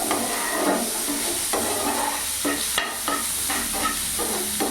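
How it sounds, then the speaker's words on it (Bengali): Finely chopped onions fry in a pan over a medium gas flame with a constant hissing sizzle, broken by a series of close, rhythmic stirring scrapes about every half second. "পেঁয়াজটা একটু ভাজা ভাজা করে নেব যাতে পেঁয়াজের কাঁচা ভাবটা না থাকে।"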